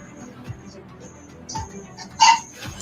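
A dog named Cookie gives a single short, sharp bark-like yip near the end, preceded by faint whimpering noises in an otherwise quiet space.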